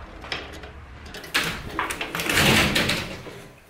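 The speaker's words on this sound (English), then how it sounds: "close the door." An indoor door swings shut with a sharp knock partway through, surrounded by shuffling and rustling room noise; no one speaks.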